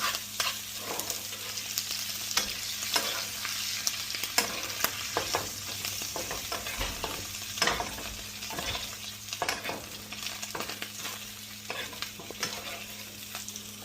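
A steak fries in hot oil and melted butter, giving a close, dense, crackling sizzle with frequent sharp pops and spatters throughout, steady and loud with no talk.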